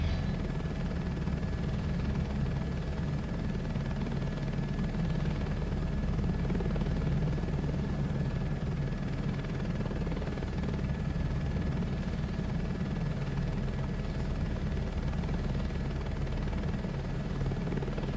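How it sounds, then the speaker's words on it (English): A fast helicopter in Microsoft Flight Simulator 2024 drones steadily with a dense rotor and engine roar, constant and loud for the whole stretch, no voices over it. "Zoom, zoom, zoom. Very fast helicopter."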